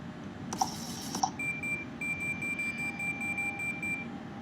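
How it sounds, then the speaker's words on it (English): Inner marker beacon in the flight simulator X-Plane 11, a rapid run of short high-pitched beeps repeating steadily over a cockpit hum, with a couple of sharp clicks just before it starts. "Inner marker."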